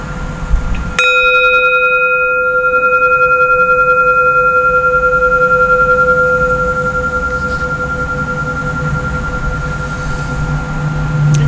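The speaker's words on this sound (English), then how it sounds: "the third bell is for our hurting, beautiful world" A single bell rung during a Unitarian Universalist Sunday church service gives one clear strike, and its pure, sustained tone then rings on and slowly fades over several seconds in a quiet room with no talking.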